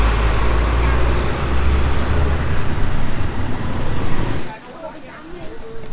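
Car traffic roars along a busy street in Phnom Penh. The dense, close roadway rumble carries steadily before dropping away sharply near the end, leaving quieter, scattered street sounds.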